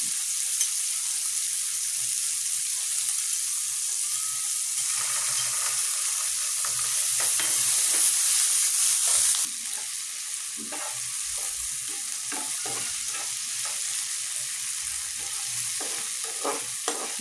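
Onion frying in oil with ginger, garlic and cumin paste for a spiced tengra fish curry: a steady close sizzle with scraping stirs, briefly louder midway, then intermittent spoon clatter against the pan.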